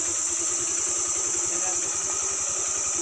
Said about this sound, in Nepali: न्युट्रलमा राखेर हल्का एकछिन अलिक गुडुरु पारौँ